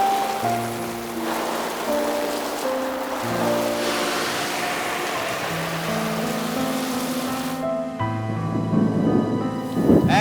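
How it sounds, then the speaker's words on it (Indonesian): Steady rain and rumbling thunder fill the scene, a continuous wash of falling water under sustained musical tones throughout, with the rain growing slightly louder near the end. "Tin, nanti kalau di sana masih hujan, kamu bertutup dulu ya"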